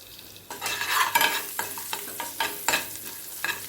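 Tempering in hot ghee with cumin, asafoetida, chopped garlic and dried red chillies for a chapati side dish, a bright crackling sizzle with repeated stirring scrapes in an uneven rhythm, close and fairly loud.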